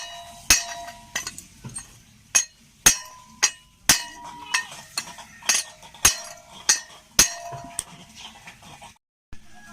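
Sharp metallic taps on an aluminium rear end cap of a grinder motor as it is knocked loose for a bearing change, a dozen or so close, ringing strikes at an uneven pace with brief pauses between.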